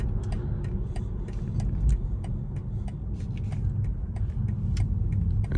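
A BMW i4 eDrive40 electric car drives onto a highway, giving a steady road and tyre rumble with faint clicks and rattles inside the cabin.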